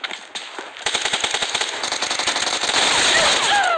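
Rapid automatic gunfire in a multiplayer shooter video game, with dense crackling bursts that build and grow louder, then sustain toward the end.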